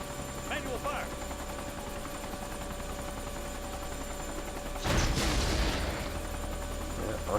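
AH-64D Apache helicopter gunfire in the ARMA 3 video game: a steady rotor drone runs throughout, with one loud, dense burst of cannon fire near the middle, and brief speech early on.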